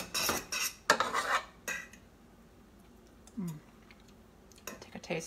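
A spoon scrapes and clinks in a pot of smashed cauliflower, a few bursts of stirring separated by quieter gaps, close and clear with no talking.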